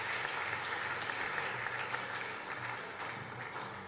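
Spectators applaud steadily at a 10 m air pistol men's final at a shooting World Cup in Croatia, a dense wash of clapping that holds for several seconds and then eases slightly toward the end.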